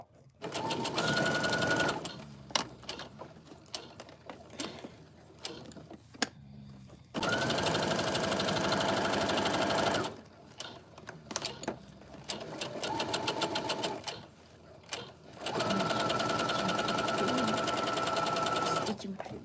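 Sewing machine stitching fabric in several long runs of fast, even mechanical clatter, each lasting a few seconds, separated by pauses where a person talks.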